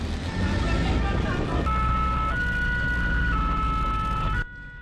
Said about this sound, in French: Aussitôt, une ambulance est dépêchée sur les lieux